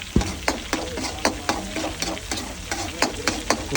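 Quail frying in a pan at a night roadside street food stall near Cochin airport, with sharp rhythmic metal-on-pan stirring clacks roughly every half second over continuous sizzling.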